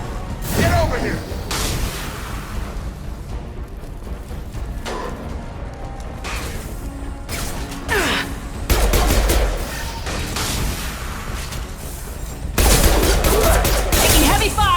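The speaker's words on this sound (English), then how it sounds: "Taking heavy fire!" Heavy gunfire erupts in the video game Mass Effect Legendary Edition: loud, rapid bursts and booming blasts come in waves, with sharper surges near the middle and the end, and combat voices call out underneath.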